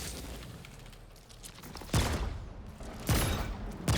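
Gunfire from the Savior gun in the video game Remnant 2, with a quiet opening that gives way to two or three heavy, booming bursts of shots, loud and close, and no voices.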